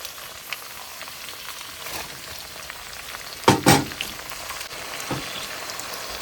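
Onions sizzle and crackle steadily in a frying pan, with a burst of louder spattering as more onion goes in, and scraping stirs now and then.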